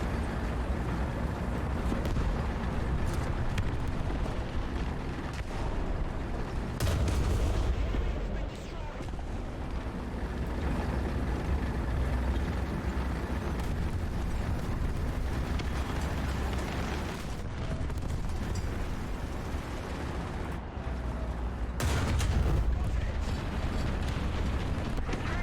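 Distant artillery booms rumble through steady battlefield noise in the tank game War Thunder, a few heavier thuds rising above a continuous low roar while someone talks over it.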